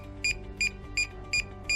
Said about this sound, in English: The linking process will start when the remote controller beeps.